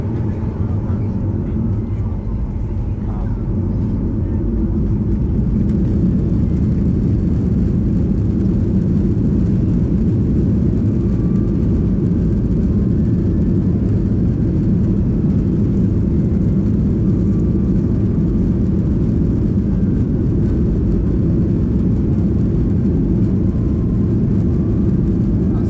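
An Airbus A340 jet taking off at dusk from runway 7C at Frankfurt, heard from inside the cabin as a loud, steady engine roar that builds and holds throughout.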